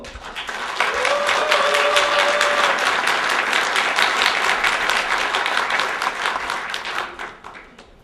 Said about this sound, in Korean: 우리 이용득 위원장 당선자께 큰 격려의 박수 부탁드리겠습니다